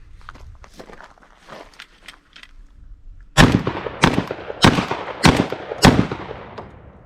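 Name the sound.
Charles Daly shotgun firing bird shot and buckshot shells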